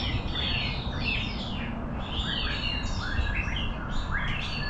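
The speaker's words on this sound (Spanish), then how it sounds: "Hay pajaritos que vuelan por acá" Small birds chirp and tweet continuously at a cenote on the Riviera Maya near Cancún, with overlapping bright calls over a steady background hiss.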